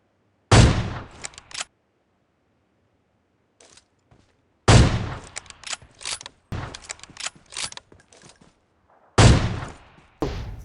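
Gunfire in the mobile battle royale PUBG Mobile: three loud, close bursts of rapid shots with echoing tails, separated by near silence and lighter mechanical clicks.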